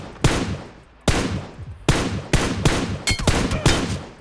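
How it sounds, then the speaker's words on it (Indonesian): Suppressed gunfire in PUBG Mobile, a run of about seven sharp, loud shots fired singly and in quick pairs, each with a short trailing decay, and no talking. "Gue nembak gue pakai suppressor"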